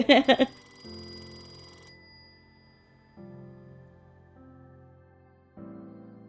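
A telephone bell rings in a quick burst of sharp metallic trills, then falls silent while a low hum and faint tones carry on beneath.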